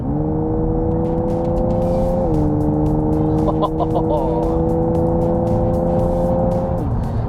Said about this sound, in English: It's supposed to sound like a V8.